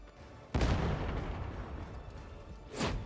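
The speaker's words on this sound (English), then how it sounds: "we're just going to throw the grenade as is, nothing special" A shredder grenade exploding in Warhammer 40k Darktide, one sudden loud blast that decays into a rumbling, crackling tail, then a second sharper burst near the end.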